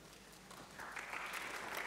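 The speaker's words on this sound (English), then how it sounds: "you have to clap for yourselves on this one" Audience applause at a panel discussion on higher education university rankings, a soft, distant patter that swells after a moment into steadier clapping and continues to the end, with no voices over it.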